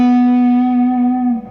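Single sustained note on an electric guitar through a distorted amp, bright and buzzy with rich overtones, ringing steadily for over a second before fading and cutting off near the end; no talking.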